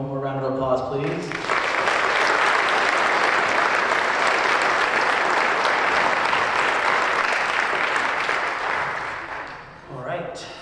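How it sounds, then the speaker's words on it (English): Loud, dense clapping fills a convention hall at a science fiction and fantasy awards ceremony, rising sharply and holding steady for about eight seconds before fading, with a speaking voice briefly heard at the start and end. "One more round of applause,"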